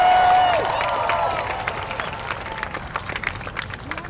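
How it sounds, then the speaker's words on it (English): A large rally crowd applauds and cheers for Portland mayor Tom Potter. The dense clapping and shouting start loud right after a voice and then thin out gradually to scattered claps. "Give him a big round of applause."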